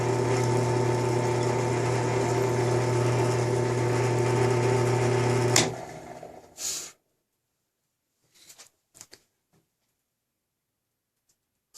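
A WEN 10-inch drill press runs loud and steady with a motor hum for about five and a half seconds while boring a small divot in wood, then winds down, followed by a few faint clicks.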